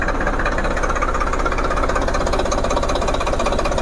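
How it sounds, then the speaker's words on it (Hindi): A tractor diesel engine runs loudly and close while the fuel pump nut is adjusted to set idle RPM around 700, giving a continuous rough, knocking rumble with a steady pulsing rhythm and no voices. "अपने ट्रैक्टर के आरपीएम जो है ना, इंजन के चेंज हो रहे हैं"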